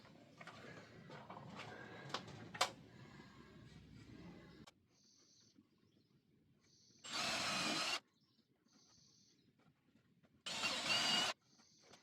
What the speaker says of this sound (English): I'm pilot drilling the holes on this side now